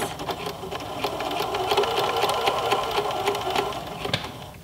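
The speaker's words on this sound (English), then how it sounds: "I have my sewing machine set to just doing a straight stitch" A sewing machine runs a straight stitch down a seam on elastic-waisted pants, a steady close mechanical whir with rapid needle ticking and no talk.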